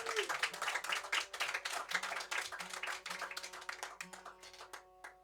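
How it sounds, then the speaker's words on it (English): Audience applause at a small indoor concert at The Drawingroom, a quick patter of hand claps filling the room at moderate level, with faint sustained tones lingering beneath and the clapping thinning toward the end. "But give them a big round of applause."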